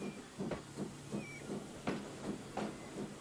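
Soft rhythmic puffs of steam hiss from a Standard 4MT tank locomotive in Trainz 22, about eight short chuffs in an even beat, fairly quiet with a faint whistle-like tone in the background.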